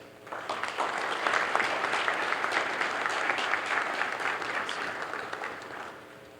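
An audience at a law fair award ceremony applauds laureate Rendel Théodore, a steady, moderately distant round of clapping that swells quickly, sustains for several seconds, then fades.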